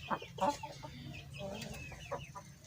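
A hen clucks in short, close bursts, the soft calls coming in an uneven rhythm over light background noise.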